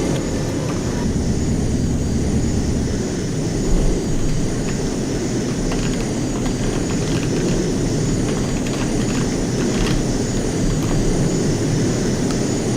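A JAS 39C Gripen jet in a flight simulator game, heard as a continuous, loud, broadband engine roar with a steady rumbling low end that holds evenly throughout, with no voices.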